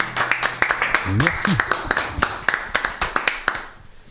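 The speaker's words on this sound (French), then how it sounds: "Et on les applaudit bien fort" Small studio audience clapping for a band on a radio show, a sparse run of distinct, close hand claps, with a voice speaking briefly over them partway through.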